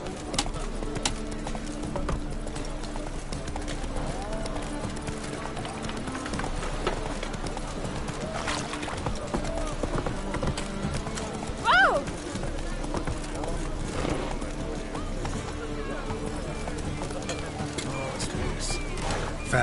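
Hooves of Roach, a horse in a video game, clip-clop at a steady gallop amid faint bird calls and game ambience, with a voice talking over the top.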